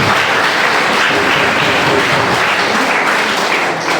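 Sustained applause from an audience at a ceremony honouring students, dense and steady for the whole stretch with no speech over it.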